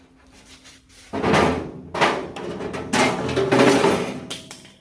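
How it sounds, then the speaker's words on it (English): A die grinder drops and clatters in a workshop during rear panel removal on a Willys MB jeep, making several loud, hard impacts in quick succession that stand out against quiet background noise. "Oh, there goes my die grinder."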